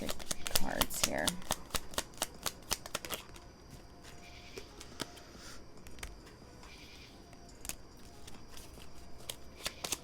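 Tarot cards are shuffled and drawn, with a quick riffling flutter of cards at the start followed by sparse soft taps and slides of single cards being laid down, close and quiet.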